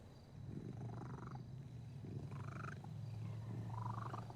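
A declawed MC cat purrs steadily like a motor, a close, low continuous rumble with a few soft higher breathy swells, no talking.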